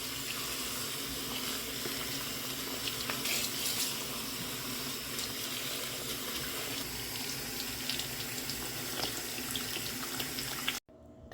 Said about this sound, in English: let me get rid of the water and just give it a final rinse